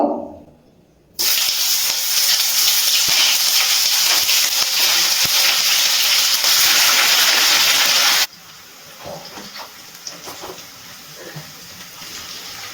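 Steamed cauliflower dropped into hot white refined oil gives a loud, steady broadband hiss that starts abruptly after a quiet second, holds for about seven seconds, then falls to a softer sizzle.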